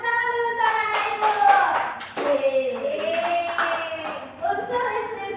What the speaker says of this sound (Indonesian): Tepuk tangan dulu untuk anak ibu.